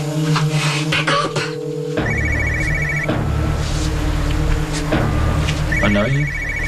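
A telephone rings unanswered in repeated electronic bursts, fairly near, with voices talking over and between the rings.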